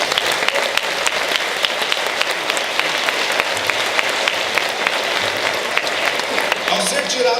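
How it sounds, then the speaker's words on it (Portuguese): Church congregation applauding during a worship service, steady dense clapping from many hands sustained throughout, with some voices mixed in underneath. "Dá um aplauso ao Senhor."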